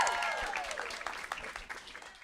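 Studio audience applause fades in under a fading musical sting at a television interview taping, clapping rippling on for a couple of seconds and gradually tapering.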